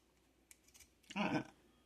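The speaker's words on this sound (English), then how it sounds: "let me go ahead and cut this off" Scissors cut through a giant paper bag, giving a couple of faint snips followed by one louder, brief crisp crunch of paper close by, in an otherwise quiet room.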